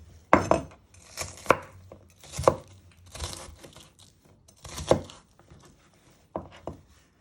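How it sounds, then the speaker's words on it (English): A knife chops onions on a cutting board for spaghetti bolognese, with about six separate sharp thuds and crunches spaced roughly a second apart, close and clear. "You got any little big bits, just go through them with the knife"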